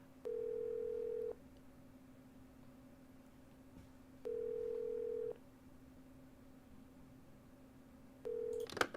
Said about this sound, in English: It's just gonna keep ringing.